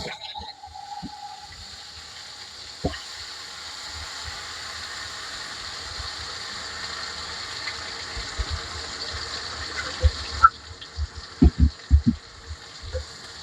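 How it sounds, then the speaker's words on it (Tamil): Prawns hitting hot oil in a pan give a steady broadband sizzle throughout, with a few sharp clatters and bursts of crackling near the end as they are stirred. "எண்ணெய் காஞ்சிட்டு இந்த ப்ரான்ஸை நம்ம இதோட சேர்த்துக்கலாம்."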